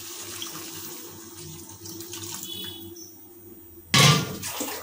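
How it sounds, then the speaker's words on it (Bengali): Water poured into simmering chicken ghugni, a chicken, pea and potato curry, a sudden loud splashing burst near the end after a steady low kitchen hum. "তাই এবার এতে আমরা যোগ করব পরিমাণ মতো জল।"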